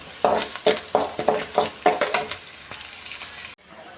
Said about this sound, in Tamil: ஒரு பதினஞ்சு பல் பூண்டு சேர்த்துக்கணும் சேர்த்து நல்லா வதக்கி விட்டுருவோம்